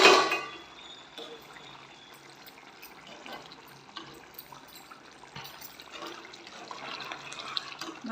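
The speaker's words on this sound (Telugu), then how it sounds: "ఇదిగో పులుసు అయితే ఇలా ఉడుకుతుందండి" Egg curry (pulusu) simmers in a pot on a stove, giving a soft, steady bubbling and hissing throughout that is heard up close with no voices.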